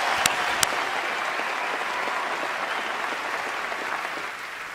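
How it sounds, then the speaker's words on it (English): A large awards-show audience at the 2014 ESPYs breaks into a dense, sustained round of applause that fills the room, with a couple of sharp bright cracks near the start. "Give a patriotic American round of applause."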